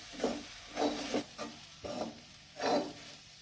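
Chopped tomato tossed into a pan of clam stir-fry, giving a few rhythmic stirring and scraping strokes over a soft sizzle, close and moderately quiet with no talking.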